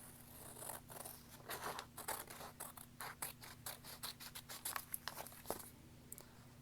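Scissors snip through paper in a quick series of close, crisp cuts, irregular but steady, over a faint low hum.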